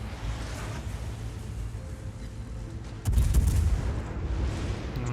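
Naval guns fire in the World of Warships video game, a deep booming blast about midway that thickens the low rumble, over a steady background drone of battle ambience.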